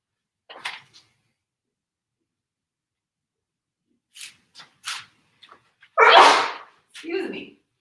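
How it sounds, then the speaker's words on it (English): A painter working with a palette knife on a field of flowers sneezes loudly and close up after a few quiet scrapes and soft movements, with a smaller follow-up sound right afterward. "Nothing like sneezing on your live stream."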